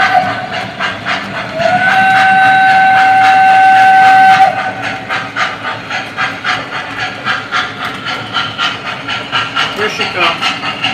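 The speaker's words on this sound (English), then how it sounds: "Listen to that whistle, isn't that cool?" A loud, sustained steam whistle from an O gauge model train sounds for a few seconds, then rhythmic clickety-clack of its wheels picks up and continues nearby.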